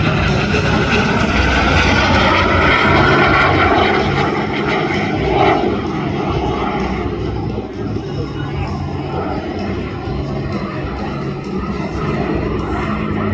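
A Tori microjet aircraft passes by at an outdoor airshow, its engine roar loud and steady, swelling then easing slightly as it flies over, with a commentator's voice over the noise.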